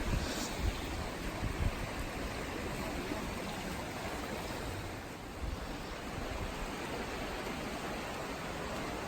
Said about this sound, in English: So that's the river there, and it just bursts its banks right onto Tim's hammock.